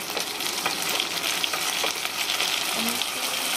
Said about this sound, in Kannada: ಒಬ್ಬಣ್ಣ ಬರುವವರೆಗೂ ಎಣ್ಣೆಲಿ ಬಾಡಿಸ್ಕೋಬೇಕು